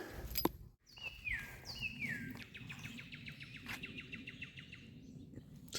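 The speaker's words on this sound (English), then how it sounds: "Starting the morning off with laser beam birds, it appears." Several birds chirp nearby in the morning, with bright descending whistles and a rapid repeated trill over a steady low outdoor rumble.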